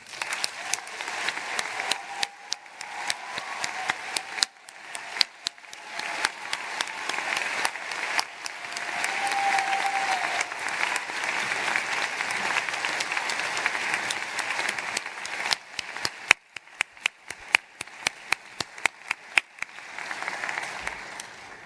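An audience at a commencement ceremony applauds award recipients and graduates, sustained crowd clapping that swells and holds for a long stretch, then breaks into scattered, thinning claps near the end.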